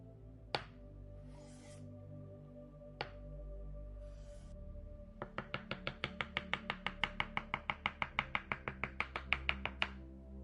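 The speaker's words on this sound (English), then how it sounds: "Now, I must chop the garlic and onions, as they will be essential to this recipe." Knife chopping garlic and onions on a board in a chef's kitchen: a few isolated cuts, then a fast, steady run of sharp, close chops.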